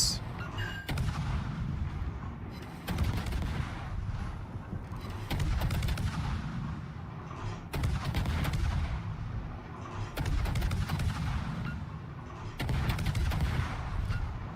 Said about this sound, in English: God, I wish these were bigger guns.